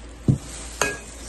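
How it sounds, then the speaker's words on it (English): Homemade chicken salad with grapes being stirred in a bowl, two short, soft scraping thuds of a utensil against the dish, close and quiet with no talking. "gonna mix grapes"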